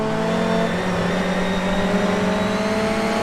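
A front-wheel-drive race car in a racing game brakes into turn 1 at Watkins Glen, its engine note a loud, steady drone that shifts gradually in pitch as it slows.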